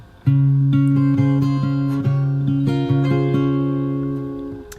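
Fingerstyle acoustic guitar plays a bar from the verse of a song, plucked notes ringing clearly with steady rhythmic attacks and sustained bass tones, close and alone without voices.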